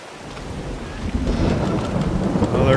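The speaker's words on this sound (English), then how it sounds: "I don't know what to tell you about the rain." Steady rain with a low rolling thunder rumble in Farming Simulator 22, building slightly louder toward the end with no talking.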